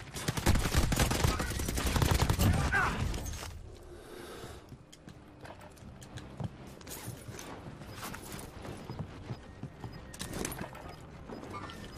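Bursts of gunfire aimed at the player in a video game crackle loudly at first, then thin out into scattered, quieter shots with mechanical clatter.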